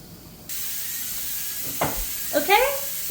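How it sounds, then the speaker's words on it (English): Steady broadband hiss of steam venting from a pressure canner while canning beef broth, with a few short clicks and rattles near the end. "the steam is starting to come out"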